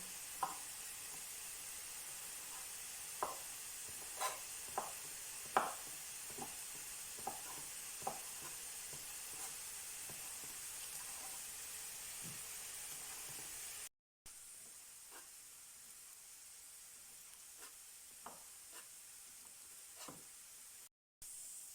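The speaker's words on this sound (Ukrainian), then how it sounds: "Поки шампіньони обсмажуються з цибулею" Button mushrooms and onion fry in a pan with a steady loud sizzle and hiss, punctuated by scattered sharp pops and crackles, with no talking.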